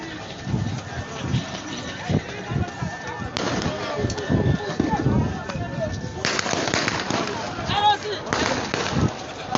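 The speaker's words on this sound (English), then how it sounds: "They started shooting their guns also." Gunshots fired at protesters: sharp, scattered cracks and bangs at varying distance mixed with shouting voices and crowd commotion throughout.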